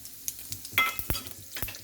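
Mustard seeds and cumin sizzling in hot oil for tempering while making usarikaya pachadi. A few sharp pops and crackles sound close over a faint fizzing hiss, brief and irregular.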